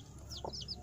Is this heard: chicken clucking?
yes